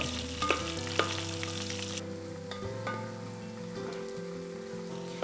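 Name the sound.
chopped onions sautéing in pan for anchovy thoran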